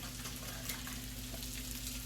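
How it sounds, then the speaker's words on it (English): Omelet eggs sizzle and crackle steadily in a hot pan, a continuous fizzing hiss over a low electrical hum, with nobody speaking. "So, that's all sizzling up there."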